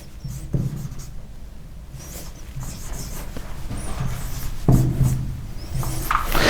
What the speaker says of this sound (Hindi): मैं इसका कोड नीचे लिख रहा हूं